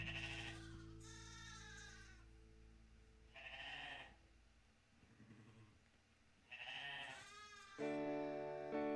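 Sheep and lambs bleat on a farm, several separate calls at varied pitches spaced across the stretch, fairly close and clear over a low steady background hum, with no voices.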